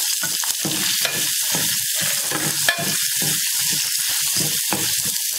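Shallots and dried red chillies crackle and spit in hot oil with popped mustard seeds and urad dal, a loud, busy sizzle broken by frequent stirring scrapes, no voices.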